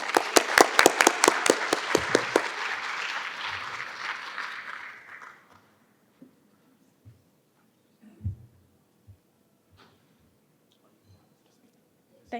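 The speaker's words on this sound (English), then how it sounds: "Let's give her a warm round of applause." An audience at a gala gives a round of applause that starts strong, fades out within about five seconds, then leaves a quiet room with scattered small knocks and shuffles.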